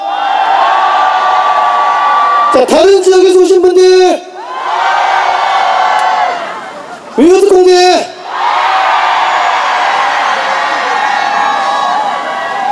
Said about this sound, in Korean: 인천에 살고 계신 분들만 함성 한번 들어올까요?